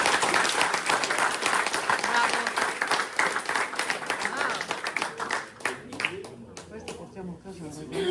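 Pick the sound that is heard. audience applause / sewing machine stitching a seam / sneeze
audience applause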